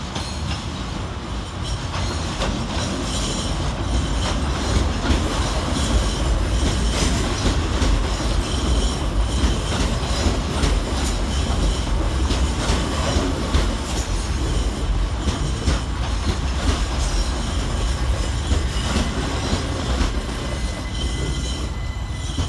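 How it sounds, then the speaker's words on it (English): C2C class 357 electric trains roll into London Fenchurch Street station, a steady loud rumble of wheels and rail noise with faint squeals and clatter running throughout and no voices. "Arriving to terminate with a C2C service off of Southend Central is 357034 and"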